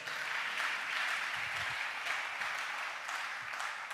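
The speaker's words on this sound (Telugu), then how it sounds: "చప్పట్లు కొట్టాలి" Sustained, even applause from a congregation at a Telugu Christian sermon, a steady dense patter of many hands clapping throughout, fairly close and loud with no voices over it.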